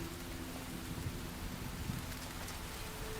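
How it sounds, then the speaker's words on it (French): Rain pouring in the survival video game Enshrouded, a steady hiss of falling drops on surfaces with low rumbling underneath, heard alone without talk. "Ah, mais il pleut ici."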